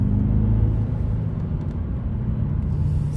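A twin-turbo Audi A8 accelerates on the road with a loud, steady low engine rumble and road noise heard from inside the car, with no talking.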